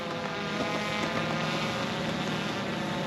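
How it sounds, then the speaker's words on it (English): Steady wind roars across the microphone during a GoPro Karma drone flight near a bike park, a continuous broadband rush with a faint motor-like hum running through it and no speech. "It is windy."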